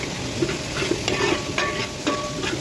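Beef mixed and fried with onions in a pan, a steady sizzle with repeated scraping strokes of a spoon stirring through, close and moderately loud.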